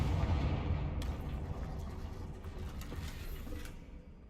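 A Confringo blasting spell in Hogwarts Legacy lets out a heavy, rumbling fiery burst with a dense low roar that slowly decays, accompanied by a few crackling impacts, loud and without any talking.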